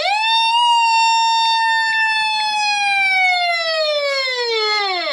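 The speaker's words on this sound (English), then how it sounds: "the siren's very loud" A Midland 74105 XL weather radio sounds its siren, a loud, piercing electronic wail that rises quickly and then slowly falls in pitch, heard close and alone without talk.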